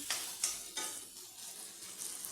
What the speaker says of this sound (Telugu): ములక్కాయలు ఉంటే చిన్నగా కట్ చేసుకొని వేలో వేసుకొని మంచి ఆయిల్లో మంచిగా ఫ్రై చేయాలండి